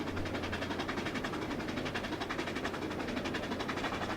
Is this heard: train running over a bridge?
yes